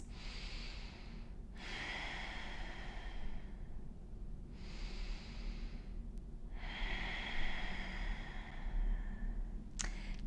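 Ujjayi yoga breaths drawn through the nose with the back of the throat slightly constricted, giving two long, rushing, ocean-like inhale and exhale cycles, close and fairly soft, with faint clicks between breaths.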